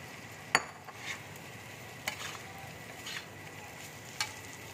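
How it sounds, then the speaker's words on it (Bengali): Potatoes and cauliflower fry with spices in a pan for a vegetarian aloo phulkopi curry: a soft, steady sizzle with a few sharp clicks and scrapes of stirring, close and fairly quiet. "মশলার সাথে একটু ভালো করে ভেজে নেবো ফুলকপি আলুটা।"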